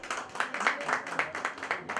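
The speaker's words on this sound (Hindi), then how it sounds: "जोरदार तालियां हो जाए इनके लिए।" Applause for a singer in a studio: an audience claps in a steady, moderately loud patter, with a voice speaking over it.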